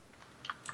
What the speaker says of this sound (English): John's typing.